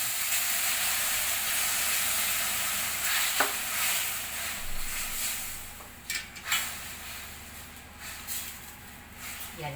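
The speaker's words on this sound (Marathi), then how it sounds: "याला आता आपण चांगली एक वाफ आणून ठेवूया" After hot water goes into a pan of fenugreek greens, a broad steamy hiss and sizzle fills the air, fading somewhat, with a few sharp scrapes of stirring against the pan.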